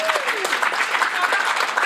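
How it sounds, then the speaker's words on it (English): Steady applause from attendees at a Yuba City council meeting, a dense even patter of many hands clapping throughout, with a faint voice briefly audible near the start. "Let's give them a round of applause."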